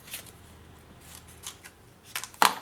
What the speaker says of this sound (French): Je vais la couper ici, comme ceci.